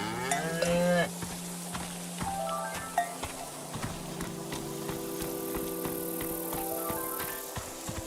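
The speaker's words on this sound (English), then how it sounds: "The name of this cow is TVC-15, oh my." Cattle mooing in the video game SEASON: A Letter to the Future, a few low moos near and loud at the start, then softer lowing with clanking cowbells and light rain patter in the background.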